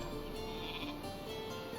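A sheep in the strategy video game Northgard lets out a single drawn-out bleat over a steady hum of in-game ambience.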